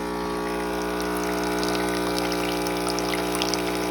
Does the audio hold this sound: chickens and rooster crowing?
no